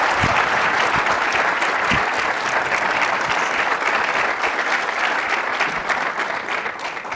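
A lecture audience greets Fareed Zakaria with sustained, loud applause, a dense steady wash of clapping from many hands that carries on throughout.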